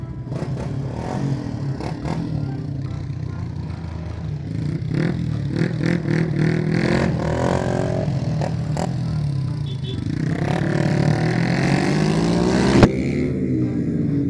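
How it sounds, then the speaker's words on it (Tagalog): Motorcycle exhausts on a group cafe ride rev loudly, a dense, continuous engine roar rising and swelling over about fourteen seconds, close by and building toward a sharp burst near the end. "Grabe, nalakas ang mga tambutso talaga nila, oh."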